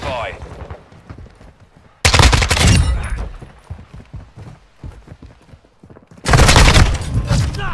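Kastov 545 rifle gunfire in Modern Warfare 2 multiplayer comes in two loud bursts of rapid automatic shots separated by quieter battle noise and footsteps, with players talking.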